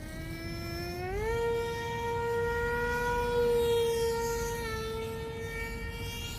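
Electric motor of a RiteWing Vollocity 48 RC plane whines under throttle, a steady tonal drone that rises in pitch and holds, heard continuously without talk.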